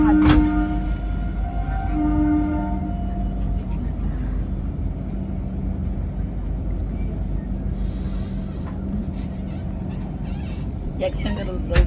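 A passenger train runs with a steady low rumble and rattle heard from inside a carriage, with tonal hums early on and people talking over it.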